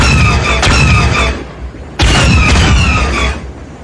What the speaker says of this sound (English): One blossomed into a radiant fireball, while the other spun out of control.